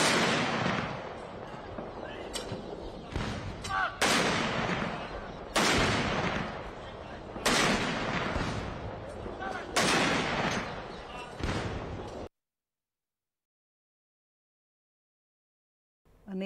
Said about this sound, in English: a 17-gun salute.